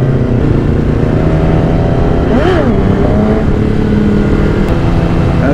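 Motorcycle engine revving hard as a rider pulls a small wheelie during a bike night, loud and close, with rising and falling pitch sweeps over a constant roar.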